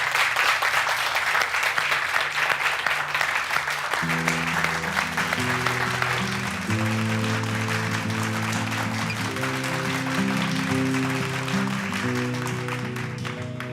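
Audience applause for a man called to the stage at a marriage proposal event, steady and sustained throughout, with musical notes entering under the clapping partway through.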